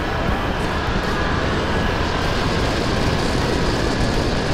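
A BMW F900R two-cylinder motorcycle on a test ride gives a steady, loud, unbroken roar of engine and rushing wind. There is no speech and no noticeable change in pitch.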